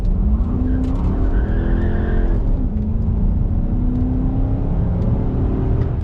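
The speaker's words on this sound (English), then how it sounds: "let's see what this thing can do off a dead hit with traction control off" A Chrysler 300C Hemi sedan launches hard from a standstill with traction control off. The V8 roars loud and close while the tires skid and whine, and the engine pitch rises through a gear before settling into a sustained, strained pull.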